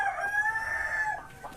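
A village rooster crows once in a drawn-out call, fairly near and moderately loud, with no voices.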